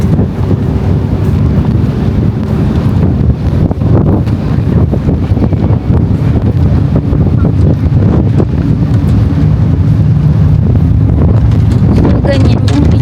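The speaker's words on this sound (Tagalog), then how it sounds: "Ang hangin, grabe yung hangin." Strong wind buffets the open deck of the Costa Serena cruise ship at sea, a constant loud low roar of gusts across the microphone lasting throughout, with a voice talking now and then underneath.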